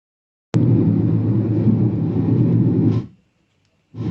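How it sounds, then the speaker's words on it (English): Simulated airplane cabin noise played through a raw microphone on wireless earbuds: a steady, loud broadband roar that starts abruptly, holds for about two and a half seconds, cuts off, then resumes at the end. "What you hear now is the sound as if I was in an airplane."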